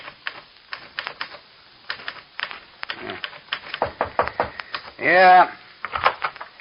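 An old typewriter clacks in irregular bursts of sharp keystrokes, close and distinct, with a brief voice cutting in partway through.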